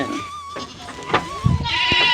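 A goat bleats in a short wavering call over an outdoor rural Bhojpuri comedy scene, the tone fading out and returning as a second bleat toward the end, moderately near and with no talk.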